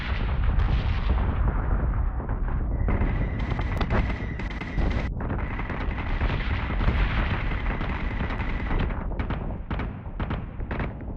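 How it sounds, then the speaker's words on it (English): Missile launches in Battlestar Galactica Deadlock roar continuously as a dense, loud wash of booming blasts and rushing noise, with sharp bursts layered on top throughout and a few short pauses near the end. "This has launched so many missiles."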